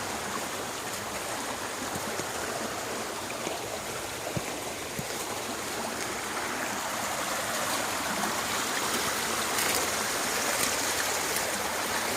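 A creek swollen after heavy rains rushes past with a steady, broad roar of flowing water, close and continuous with no break.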